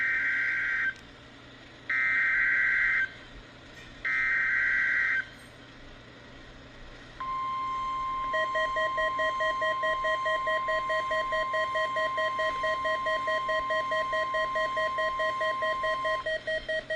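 Emergency Alert System test from Ruskin, Florida: three long electronic header bursts separated by pauses, then a steady two-tone attention alarm sounding continuously for about ten seconds, clear and alone.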